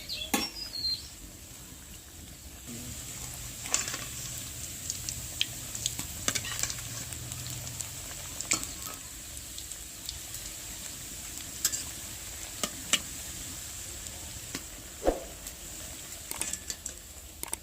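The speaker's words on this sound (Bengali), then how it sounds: "এবার পকোড়াগুলো হালকা আঁচে ভেজে নিতে হবে।" Potato pakoras fry slowly in oil over low heat, giving a soft continuous sizzle with scattered clicks and light scraping throughout, no voices.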